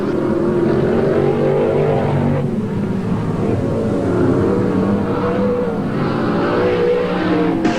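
Race cars roar around the track in an NSW SCC round one heat, a steady loud engine drone with rising and falling revs as several cars run close together and pass.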